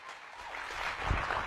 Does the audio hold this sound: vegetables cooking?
no